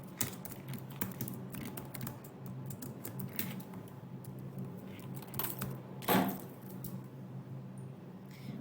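A contract title is typed on a computer keyboard: quiet, close key clicks tapping in irregular bursts for several seconds, with one louder clack near the end.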